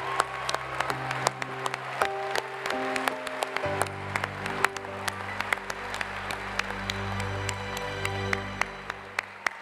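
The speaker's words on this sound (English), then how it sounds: "One more round of applause for the 2014 graduates of the Professional MBA program." Graduation ceremony audience applauds the 2014 Professional MBA graduates at the Cox diploma ceremony, with scattered claps over a sustained musical tone and room hum, moderately distant.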